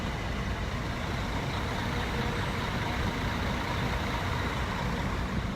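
A bus rumbles past at a cruise shore excursion stop, giving a steady, fairly loud engine drone and road noise that holds evenly throughout without talk.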